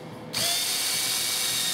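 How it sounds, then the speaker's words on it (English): A small power drill bit starts abruptly and whines steadily as it bores holes into a small block of wood, loud and close with no talk. "I took my little block of wood, my small drill bit, and I drilled holes."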